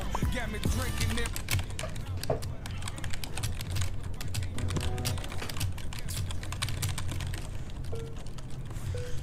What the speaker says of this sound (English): I hate that you can hear me typing